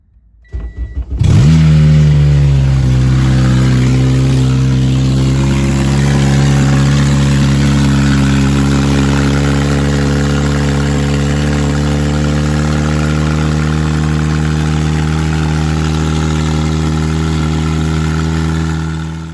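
A Honda Civic DX with a swapped K20Z3 engine fires up for the first time on a stock Type S ECU, catching abruptly, revving briefly, then settling into a loud, steady idle that holds close and unbroken to the end.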